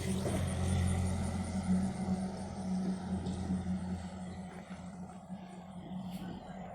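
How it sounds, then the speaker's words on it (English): A dump truck driving past outdoors near a dam, a steady low engine rumble that fades slowly, heard from a moderate distance with no talking. "There goes a truck."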